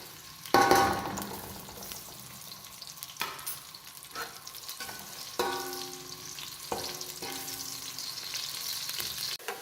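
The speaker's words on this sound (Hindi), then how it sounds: "जैसे ही ऑयल हमारा गर्म होगा तो इसमें हम डाल देंगे प्याज फ्राई करने के लिए।" Onions fry in hot oil for chana pulao, a crackling sizzle that bursts up as they drop into the pan, then settles into steady frying broken by scrapes and clinks of stirring.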